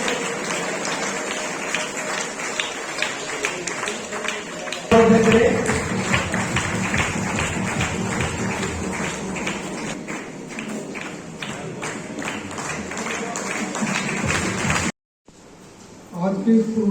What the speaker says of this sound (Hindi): जोरदार तालियों से इस बच्चे का उत्साह देते हैं।